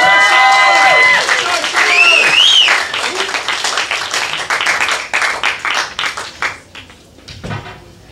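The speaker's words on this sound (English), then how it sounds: "Clap it up for Charlene, everybody." At an open mic night in a gallery café, an audience breaks into loud, dense applause with some whoops and whistles near the start, then tapers off into scattered claps.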